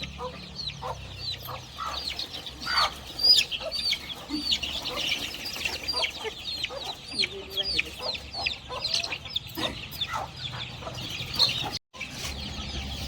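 Busy chirping and clucking of month-old desi country chicken chicks, many quick calls overlapping close by, with a few wing flaps and soft rustling.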